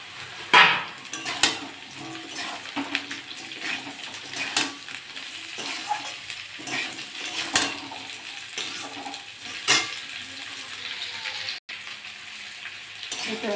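Potato and papaya pieces fry with onion in a pan, sizzling steadily while a utensil repeatedly scrapes and clinks against the metal, with occasional louder stirring knocks throughout.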